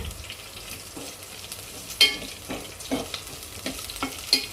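Green chilies stirred in a hot pan, a steady frying sizzle broken by several sharp scraping stirs of a utensil, close and moderately loud with no voices.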